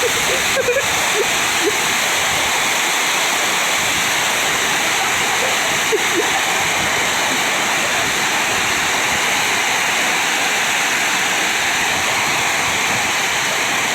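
A steady, heavy roar of wind-driven rain during a thunderstorm at a truck workshop in Surin, Thailand, constant and loud from start to finish with no pauses.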